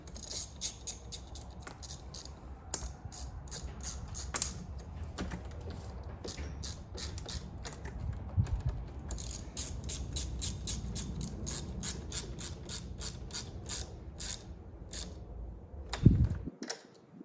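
An 8 mm wrench turns to refit the battery cables on a Ford F150, giving a rapid ratcheting click that runs steadily and close by, with a few metallic knocks and a louder clunk near the end.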